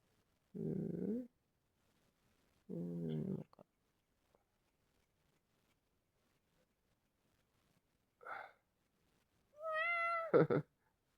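Pet cats meowing in a quiet room: four separate calls spaced by silence, two drawn-out low meows early, then a short cry and a final higher, wavering meow, fairly soft and close.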